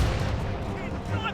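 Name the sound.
ship cannons firing in Assassin's Creed Rogue video game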